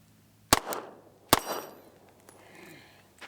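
A CZ P-09c Nocturne pistol fires two sharp, loud shots about a second apart from a magazine, each followed by a short ringing decay outdoors.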